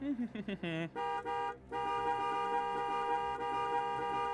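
A voice imitates a car's courtesy honks in a driveway, giving a few short nasal toots followed by a longer sustained honk tone, loud and close.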